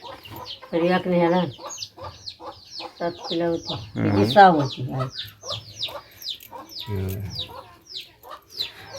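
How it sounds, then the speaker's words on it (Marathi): Hens cluck and chirp around a rural village home, with repeated short calls scattered through the clip and people talking nearby over them. "कोंबडी पण आली"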